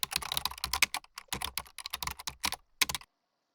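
Typing a line of code on a computer keyboard in a Jupyter Notebook on Windows 11, a quick run of close, crisp keystrokes in uneven bursts that stops abruptly into silence.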